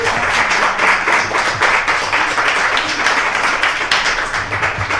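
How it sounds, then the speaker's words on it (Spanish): Audience applause after a lecture on the 1923 total solar eclipse, dense steady clapping from a crowd close by that continues throughout with a few louder claps standing out. "Pero primero un aplauso."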